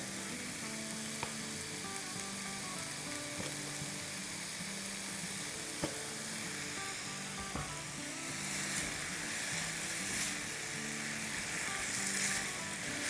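Homemade taco filling with a tablespoon of hot sauce sizzles in a pan as it is mixed, a continuous close frying hiss with an occasional faint utensil tap and no voices.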